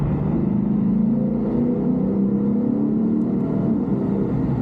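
Lexus IS-F V8 engine roaring loudly and steadily through a tunnel, a deep continuous rumble with rising revs that echoes off the walls and stays close throughout.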